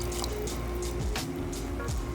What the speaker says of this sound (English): It's time to add the water now.